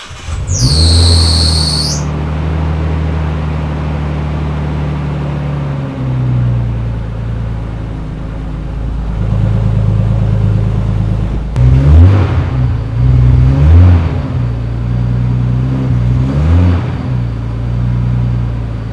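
A Nissan Cefiro engine cranks and catches after a brief high squeal, then idles steadily before a series of loud revs swell and fall in repeated bursts, close and alone.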